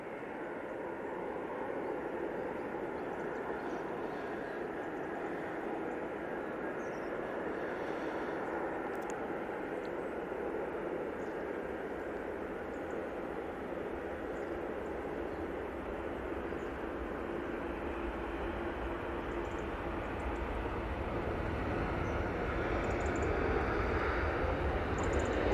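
A Ryanair jet bound for Belfast takes off at an airport, a steady broadband engine roar heard from a distance that swells slightly toward the end.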